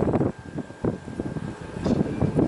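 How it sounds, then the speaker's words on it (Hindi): Strong wind buffets the microphone outdoors in the early morning as rain clouds gather after a spell of scorching heat, with rough, uneven gusts that swell and drop over a couple of seconds. "तेज हवा है।"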